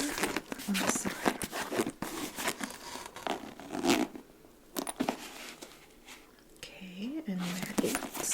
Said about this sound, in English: They have a zipper on the side.